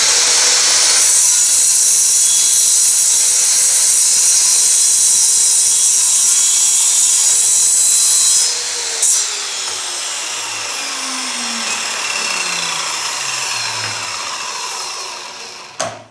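A saw with a carbide blade slices through an aluminium profile, giving a loud, continuous high metallic whine for about eight seconds before the motor winds down with a falling tone.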